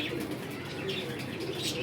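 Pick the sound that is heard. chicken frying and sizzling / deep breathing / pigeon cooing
pigeon cooing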